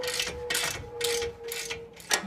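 A ratchet tightens strut bolts during a BC Racing coilover install on a Ford Taurus SHO, producing five quick bursts of clicking close up over a steady tonal hum, each lasting about a quarter second.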